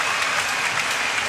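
Steady, dense applause from a large badminton crowd at the World Championships, a women's final between Li Xuerui and Carolina Marin, filling the hall continuously with no pauses or voices on top.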